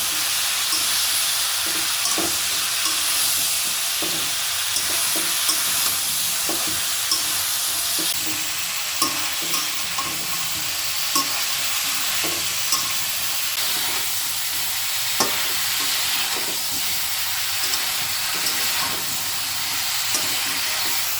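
Steady, loud sizzling from a pan of frying shol fish with cauliflower and potato, salt and turmeric added, continuous hiss throughout with occasional faint clicks of stirring.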